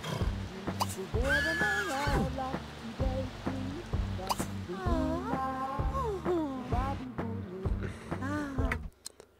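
A horse in The Sims 3 Into The Future whinnies again and again, loud rising and falling neighs repeating over several seconds with short pauses and some light clopping between them.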